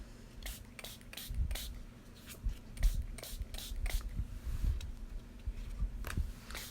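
Short spritzes of stain spray onto coffee-dyed paper, a series of faint, quick hissing puffs at irregular intervals, close and quiet with no talk.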